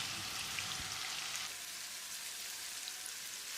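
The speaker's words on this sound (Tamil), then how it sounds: "இதில் நம்ம மேரினேட் பண்ணி வச்சுருந்த மீன் துண்டுகளை பொரிச்சு எடுத்துக்கலாம்." Marinated fish pieces frying in oil in a pan, a steady, faint hiss and crackle of sizzling that holds evenly throughout with no voices.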